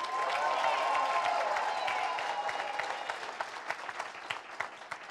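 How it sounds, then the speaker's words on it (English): Audience at a 2019 business bootcamp training applauds, a dense wash of clapping that stays loud and steady before thinning into scattered individual claps near the end. "Clap a little louder if you're going to apply what you heard."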